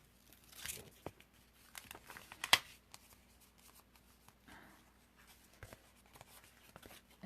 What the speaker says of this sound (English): then just pull your liner off